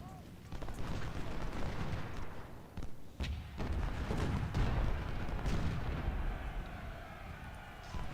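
Cannon and rifle fire in the Ultimate General: Civil War video game, a Union battle at Bull Run, with dense continuous booming and crackling volleys at moderate level, a brief lull near three seconds, and a voice speaking over it.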